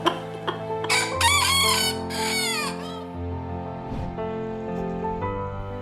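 A rooster crows twice in succession, loud and close, with rising then falling harmonic calls, over a steady low background hum and a few faint clucks.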